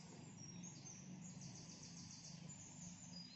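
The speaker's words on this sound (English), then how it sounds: "Yes, the birds are chirping" Faint, steady bird chirps over a low ambient hum, with soft tweets repeating through the whole stretch and no voices.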